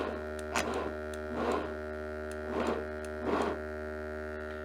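Blendtec blender pulsing produce in four short, evenly spaced bursts of whirring, grinding noise over a steady electrical hum.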